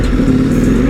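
A Ducati Multistrada V4 RS adventure motorcycle engine roars steadily under acceleration while riding at speed, loud and close, with a strong droning tone and continuous wind rush and no pauses.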